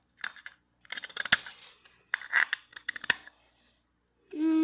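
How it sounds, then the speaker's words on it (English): Scissors snip all the way around a can to make an alcohol stove, a series of close, scraping, metallic cuts in uneven bursts with short pauses, followed by a steady tone at the end. "we're just going to cut all the way around with my scissors"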